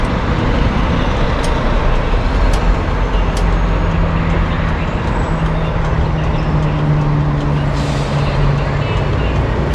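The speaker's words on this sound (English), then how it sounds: "We got a garbage truck convention going on right now." Diesel garbage trucks idle and rumble nearby in a steady, loud, unbroken drone, with faint clanks and scrapes rising briefly above the engine noise.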